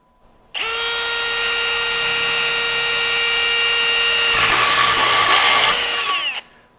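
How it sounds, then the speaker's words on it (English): A HERCULES cobalt step drill bit bores a hole at high speed, a loud steady whine with strong harmonics running about six seconds alone before cutting off abruptly. "you see how quick that I was able to drill that hole"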